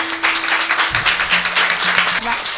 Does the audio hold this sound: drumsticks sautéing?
no